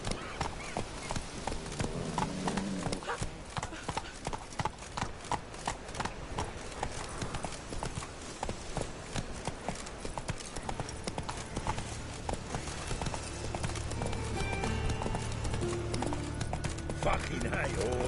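Steady clip-clop of a horse galloping in The Witcher video game, rhythmic hoofbeats running throughout with game dialogue and music over them.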